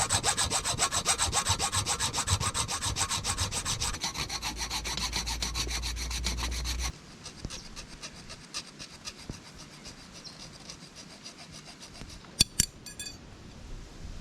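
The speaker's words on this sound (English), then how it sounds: "I'm gonna use this hacksaw blade and cut 3 prongs out of this steel" A hacksaw blade cuts prongs from a steel crab hook with steady, rapid back-and-forth rasping that goes on for about seven seconds. Fainter scraping and a few sharp metallic taps follow.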